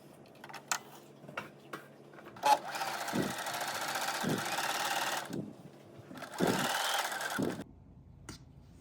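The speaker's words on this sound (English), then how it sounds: "you're going to take it to your sewing machine and you're going to do a 1/4 inch seam" A sewing machine runs in short bursts stitching a quarter-inch seam through quilt layers, its fast whirring chatter broken by pauses and soft clicks, close and fairly quiet.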